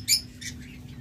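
A high-mutation lovebird at a bird farm gives one sharp, high chirp followed by a fainter squeak, brief and quiet over a low background hum.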